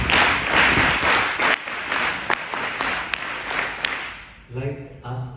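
Audience applause at Shree Swaminarayan Gurukul in Bangalore, a dense, steady burst of clapping from a crowd that runs for about four seconds and then cuts off, followed by a brief spoken voice.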